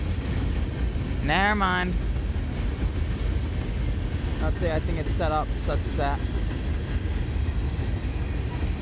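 A coal train rolls through Littleton/Mineral Station, making a steady loud rumble and rattle of cars throughout, with a horn-like tonal blast early on. People talk over the ongoing train noise.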